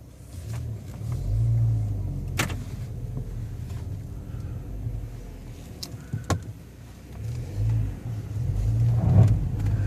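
A 2013 Ford Focus ST with a salvage title drives on the road, its low engine rumble rising and falling with acceleration, plus a few clicks and knocks from the cabin and no talk.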